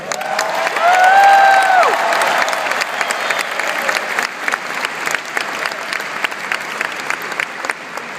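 A huge election night crowd in a convention hall applauds and cheers, a loud, sustained wash of clapping with a brief whistle near the start, holding steady throughout.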